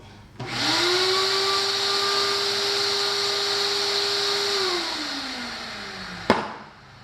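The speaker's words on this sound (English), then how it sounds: "Let me demonstrate how good the vacuum is between this wood lid and the bucket." Shop vac running through a 5-gallon bucket cyclone separator with a wood lid, a steady whining roar that starts abruptly, holds, then drops in pitch before a sharp thump near the end.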